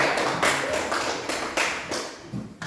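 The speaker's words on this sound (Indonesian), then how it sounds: "tepuk tangan dulu buat teman kita Nagita" A classroom of students claps for a classmate, a short burst of uneven hand claps with a few sharper taps standing out, close and moderately loud, fading toward the end.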